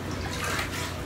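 Tap water runs in a steady, continuous rush, heard alone with no voices.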